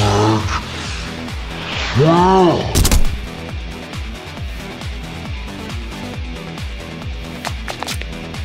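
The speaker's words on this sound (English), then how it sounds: "did you just shoot at me?" A single sharp gunshot cracks in the video game AI: The Somnium Files, loud and close, after a stretch of voices, with a steady pulsing game soundtrack running underneath throughout.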